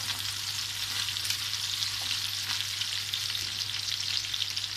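Vegetables sauté in a pan for a chicken tava kebab, giving a dense, continuous sizzle with a low steady hum beneath it and no talking.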